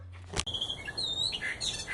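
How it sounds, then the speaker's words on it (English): A bird calls in a busy run of chirps and tweets, with high, sliding whistled notes repeating over about two seconds, fairly close and clear, with no talking. "So that bird is laughing at my failures."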